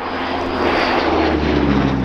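Hawker Hurricane, a propeller-driven fighter at the Dunsfold Wings & Wheels airshow, roars past with its piston engine as a loud, steady, broad drone that swells slightly, with no voices over it.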